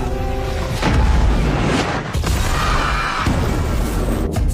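A huge explosion booms and rumbles, loud and sustained, with a second surge of crashing noise midway before it fades out.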